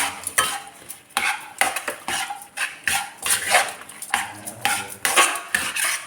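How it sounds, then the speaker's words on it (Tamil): A spoon stirs pav bhaji with masala in a metal pan, producing a steady run of close, rhythmic scraping clanks and thick, mushy stirring sounds, with no talking. "இப்போ இதை நல்லா மிக்ஸ் பண்ணிக்கலாம்."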